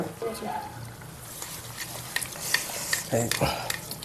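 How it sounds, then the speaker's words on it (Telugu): Fish pieces for a large fish curry are turned over in chili and oil in a pan, with a steady sizzle, scraping clinks and a few louder clattering knocks toward the end, and a faint voice in the background. "ఇప్పుడు ఏం చేస్తానంటే ముందు ముక్కలు ఒకసారి తిరిగేస్తాను"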